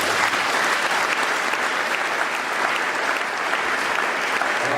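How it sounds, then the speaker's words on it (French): A church congregation bursts into loud, sustained applause and cheering that fills the room at a steady level throughout, with a few voices rising through the clapping. "Acclamons très fort pour cela."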